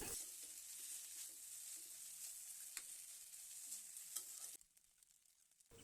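Egg chowmein stirred and tossed in a hot pan, a steady sizzle with scraping stir strokes for most of the stretch before the frying noise drops away sharply near the end.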